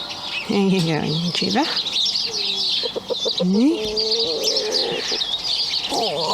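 A broody hen clucks in a farmyard, close and fairly loud, with short throaty calls and a few higher chirps repeating across the clip while someone speaks over them.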